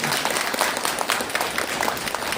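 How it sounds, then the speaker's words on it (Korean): An audience applauds at a book concert, many hands clapping in a dense, continuous patter at moderate volume with no voices over it. "박수 한번 쳐주셨으면 좋겠습니다."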